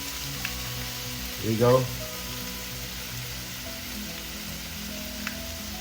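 Mapo Tofu sauce from a packet hits a hot pan in a Sichuan-style dish with ground pork, giving a short burst of loud sizzling that settles into a faint, steady frying hiss while a voice speaks briefly.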